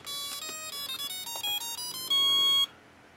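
A pachinko machine powers up into its demo mode with a run of bright electronic chimes and beeping tones in a quick melodic sequence, moderately loud and close, ending abruptly with no voices.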